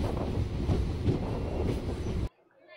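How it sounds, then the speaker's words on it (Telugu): A DEMU diesel passenger train on the Renigunta–Kadapa line rolls past on the rails with a loud, broad rumble and wheel clatter for over two seconds, then cuts off to near silence. "ఈ డెమో ట్రైన్ అనేది చాలా రేర్గా తిరుగుతూ ఉంటాయి"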